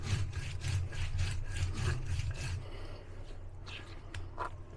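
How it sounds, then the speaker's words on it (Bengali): Pennywort leaves are ground into a paste by hand, giving rhythmic rasping strokes at a steady pace for about three seconds, then a few softer scrapes and taps close by. "আর আমার থানকুনি পাতাটা বেটে নেওয়া শেষ।"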